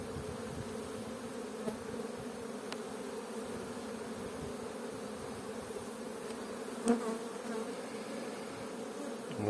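Bees hum at a hive frame lifted from a brood box, a steady dense buzzing drone from many insects, close and continuous, with an occasional faint knock.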